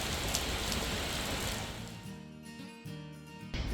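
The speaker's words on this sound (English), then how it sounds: "but it started to rain" Steady rain hisses down in Ljubljana, Slovenia, a dense close wash of drops for about two seconds before it suddenly drops away to quieter tones.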